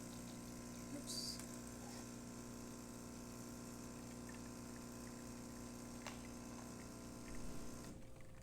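A Jura Z6 coffee machine brewing after a tune-up with a replaced brew-unit gasket: a faint, steady pump hum and drone runs throughout, with a few soft clicks and no talking.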